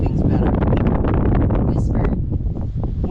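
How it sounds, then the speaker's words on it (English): Wind buffets an outdoor microphone in steady, heavy low rumbling gusts that swell and ease slightly across a few seconds and drown out most other sound. "I whisper, nobody will hear me over the wind. It's windy out there."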